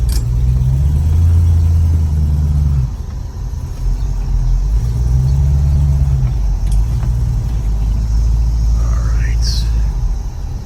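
A 1966 Ford Mustang with a brand new transmission idles and rumbles on a test drive, its engine loud and steady from inside the car, with low drones that rise and fall.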